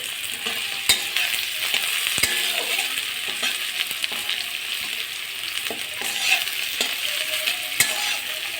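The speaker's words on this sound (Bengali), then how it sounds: "দেখতেই পাচ্ছ পেঁয়াজগুলো ভাজা হচ্ছে" Sliced onions frying in a pan give a constant close sizzle. Sharp clicks from a spatula stirring and knocking against the pan break through it now and then, with no talking.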